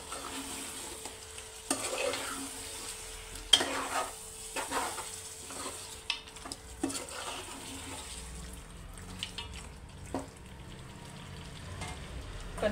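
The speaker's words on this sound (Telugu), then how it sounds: "కొద్దిగా పెరుగు కూడా వేసుకున్న తర్వాత ఒకసారి కలుపుకోవాలండి." Chicken curry being stirred after yogurt has been added, with soft scraping strokes and occasional louder clanks over a faint steady sizzle, fairly close and without talk.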